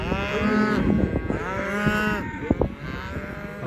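Cattle on a ranch moo loudly and close, two long drawn-out lowing calls followed by shorter grunts and shuffling.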